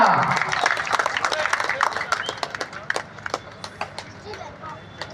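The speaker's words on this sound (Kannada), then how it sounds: "ಒಂದ್ಸರಿ ಎಲ್ಲರೂ ಜೋರಾದ ಚಪ್ಪಾಳೆಯನ್ನ" A crowd claps at a kabaddi semi-final, scattered hand claps rising in a dense burst then thinning into uneven individual claps, with a voice speaking over the start.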